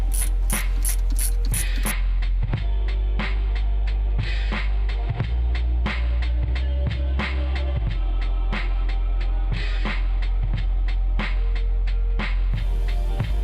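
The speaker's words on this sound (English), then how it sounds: "Take a H6 Allen driver bit to remove" A ratcheting driver with an H6 Allen bit works the brake caliper bolts on a 2007-or-newer Sprinter van, giving rapid clicking bursts and repeated sharp mechanical clicks with short pauses, close and loud.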